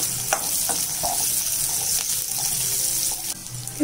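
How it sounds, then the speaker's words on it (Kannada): Prawns fry with curry leaves in a pan over a low flame, giving a steady close sizzle with occasional small pops and crackles and no voices. "ಲೋ ಫ್ಲೇಮಲ್ಲೇ ಹುರ್ಕೋಬೇಕು."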